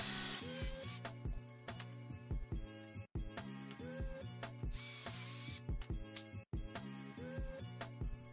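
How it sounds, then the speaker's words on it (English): A drill bores pocket holes in walnut stretchers for a folding stepstool, in repeated short bursts of whirring with brief pauses between them, close and loud, with no talk. "it's time to throw some pocket holes in these remaining pieces in the stretchers"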